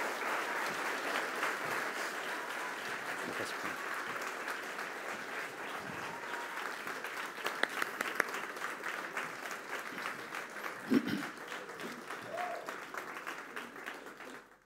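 Audience applause at a Bulgarian science talk event about space engines, a steady moderate wash of clapping from a crowd that holds evenly and then tapers off at the end.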